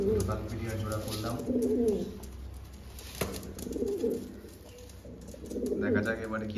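Old Kalpotiya breeder pigeons, a freshly paired male and female, coo in a home loft with several low rolling coos spread through the clip, close by over light background noise.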